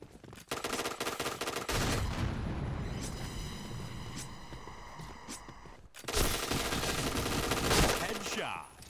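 Rapid bursts of gunfire from the Point Blank shooter game, loud and close, with sustained automatic fire, a short pause near the middle, then another heavy volley; faint game voices sit underneath.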